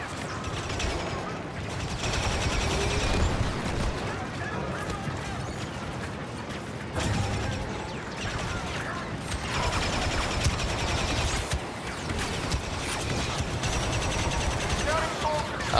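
Rapid gunfire from a video game, dense and continuous bursts of shots and mechanical clatter running throughout, with someone talking over it.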